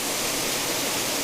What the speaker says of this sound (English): So, I have got this beautiful waterfall. The water's curling round and shooting off